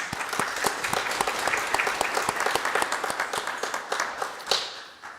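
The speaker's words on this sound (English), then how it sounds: "Let's give a round of applause." Sustained applause from an audience at a community college district board meeting, steady dense clapping filling the room for about five seconds with a brief louder burst near the end.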